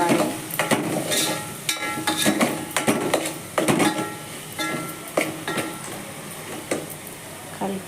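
A spoon stirs salt into dal soup in a pot, giving repeated scraping and clinking strokes in an irregular rhythm over a faint background sizzle.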